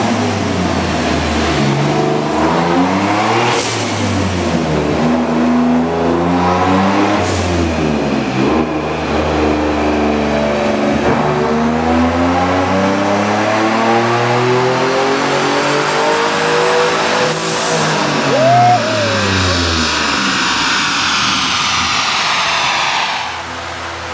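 Genesis Coupe 3.8 V6 with a single turbo kit revving hard on a dyno, loud and close, with repeated rising and falling engine sweeps and a brief turbo whistle near the end.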